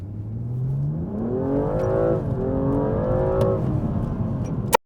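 A BMW M235i accelerating hard from inside the cabin, its engine note climbing steadily through the revs with a brief dip at a gear change before rising again, loud and continuous, ending in a sharp click.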